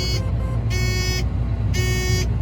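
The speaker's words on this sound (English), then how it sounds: "oh, it's beeping at me" A sprayer boom controller beeps insistently, three long electronic tones repeating in a steady pattern over a constant low engine rumble from the cab, no talking.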